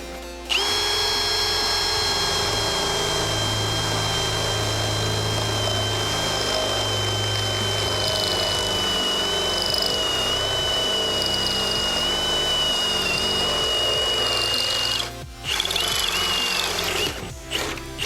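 A Milwaukee M18 FPD2 cordless hammer drill bores into 5 mm steel at second speed, giving a loud, continuous high whine that dips briefly near the end before resuming.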